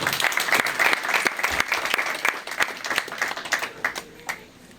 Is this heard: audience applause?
yes